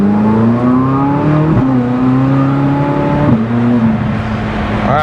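A Chevrolet Corvette C8 Z06 engine pulls hard and loud from inside the cabin, pitch climbing steadily and then dropping abruptly at two quick paddle upshifts before rising again.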